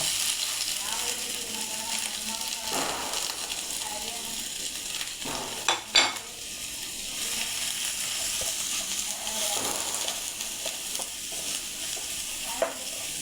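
Sliced onions frying in hot oil for upma, a steady close sizzle throughout with occasional stirring scrapes and a couple of sharper knocks against the pan.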